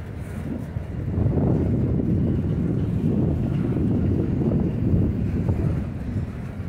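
Strong outdoor wind gusts buffet the microphone beside railroad tracks, a continuous loud low rumble with rising and falling surges and no speech.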